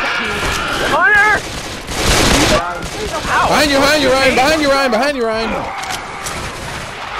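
Rapid gunfire and explosive bursts from the video game Left 4 Dead 2 fill the scene, loud and dense beneath several excited, overlapping player voices shouting to one another.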